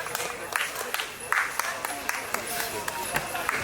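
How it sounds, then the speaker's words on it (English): Scattered applause from an audience at an award ceremony during a technology summit, light and uneven clapping mixed with crowd murmur and voices over it. "Can we hear a big round of applause for him"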